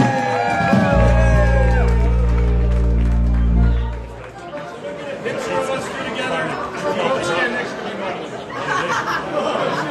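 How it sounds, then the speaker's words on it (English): An audience at the 55th annual IPA festival and convention gives a performer a round of applause, with loud crowd cheering, whoops and chatter following a strong low hum at the start. "Round of applause for Lenny Gamuka."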